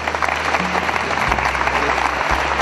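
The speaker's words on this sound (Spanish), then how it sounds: "También un fuerte aplauso." A crowd at a municipal ceremony for an inter-school sports games event gives loud, sustained applause, many hands clapping together close by over a low hum, with no speech on top.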